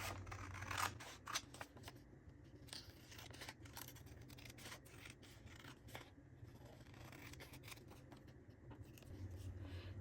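Scissors snip through double-sided printed paper pieces in a run of quick, close cuts with short pauses, crisp blade strokes over a low background hum.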